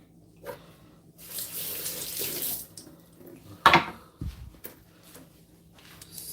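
A kitchen sink tap runs while hands are washed, a steady splashing flow in short bursts with a louder rush and a clunk near the end, close and without talk.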